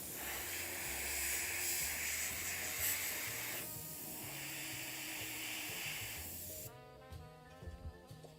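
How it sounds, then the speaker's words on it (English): A spray nozzle gives a loud, continuous hiss in long bursts that cut off near the end, leaving a few faint clicks and light handling sounds. "Man, we've been spraying for a while."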